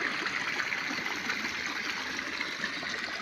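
Water rushes down from a burst earthen field embankment after heavy village rain, making a steady, broadband streaming roar, moderately loud and continuous with no voices.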